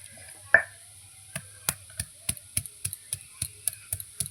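Green chilli and ginger being ground together into a paste on a grinding stone, heard as a steady series of sharp close taps and knocks at a regular rhythm.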